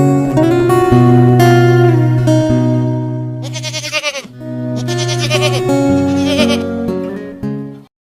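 Backyard farm goats bleat loudly and close by, in several long wavering calls that overlap one after another, with a short gap near the middle and no talking.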